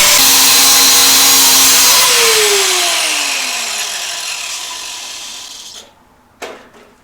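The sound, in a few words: cutting a small metal piece held in a vise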